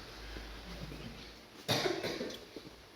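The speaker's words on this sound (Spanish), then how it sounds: "Es que hace mucho tiempo que no me da tos." A single sharp cough bursts out near the mic, followed by a short rough tail, after quiet murmuring.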